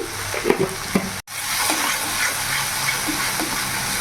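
Tangy yogurt and spice masala for a rohu fish curry is stirred in a hot pan, giving steady sizzling with scraping spoon strokes and one brief break in the sound.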